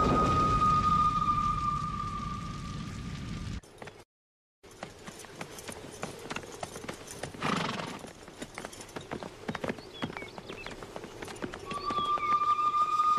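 Horse hooves clip-clop in a rhythmic gait on hard ground in an Old West setting, steady and moderately close, with a short silent break, a whinny-like tone at the start and end, and faint voices.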